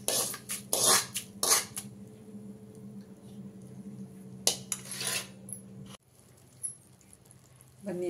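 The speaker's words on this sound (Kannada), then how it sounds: "ಬನ್ನಿ ಇವಾಗ ಒಗ್ಗರಣೆನ ಇದ್ರ ಜೊತೆಗೆ ಮಿಕ್ಸ್ ಮಾಡೋಣ." Metal spoon clinks and scrapes against a pot as tempering is stirred into puliyogare gojju, a few sharp clatters early then quieter intermittent scraping, close by with no talk.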